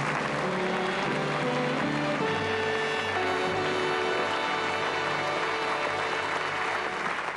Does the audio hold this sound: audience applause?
yes